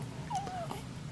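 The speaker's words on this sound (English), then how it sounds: "The whimpering." A dog gives one thin, rising-then-falling whimper, faint and brief over a quiet indoor background.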